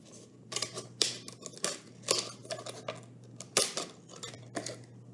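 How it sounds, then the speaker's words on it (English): Scissors snip through the top of a plastic water bottle in a quick series of crisp, close cutting crunches, about a dozen in a few seconds. "use my scissors to cut the top of the water bottle off"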